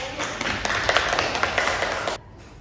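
A short burst of clapping from a small group in a classroom, fairly close and steady, cutting off abruptly near the end.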